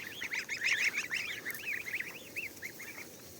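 Geese and goslings honking in a farmyard, a dense run of repeated nasal honks and calls overlapping at close range, loudest early and easing off toward the end.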